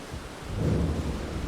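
Steady broadband rain hiss in the rainy open world of Elden Ring, swelling into a denser, rumbling wash midway with low thunder-like body, no voices.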